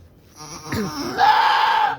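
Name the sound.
goat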